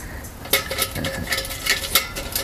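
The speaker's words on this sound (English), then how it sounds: "there's our smallest version of the Tokes titanium frying pan, and this is the solar stove Lite" A small Toaks titanium frying pan and a Solo Stove Lite being handled, giving a few light metallic clinks and taps close by, scattered irregularly over a quiet background.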